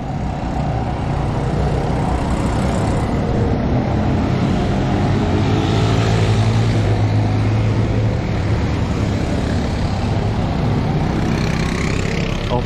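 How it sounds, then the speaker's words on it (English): Quad bike engines drone loudly and continuously nearby in a mountain valley in Egypt, a dense low rumble with no breaks. "And here's some of those quad bikes I was talking about."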